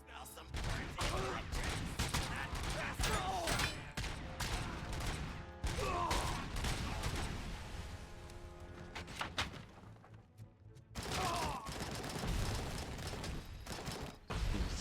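Rapid gunfire bursts and heavy impacts from the RoboCop: Rogue City video game crackle loudly and densely, broken by short lulls, with metallic clanks scattered throughout.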